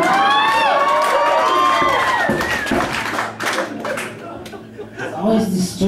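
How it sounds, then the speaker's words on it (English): Live audience at a folk music show at the Tranzac, a crowd clapping, cheering and laughing together, loud and close, with a voice speaking over the reaction. "Always disturbing, the applause for beating up the Pope."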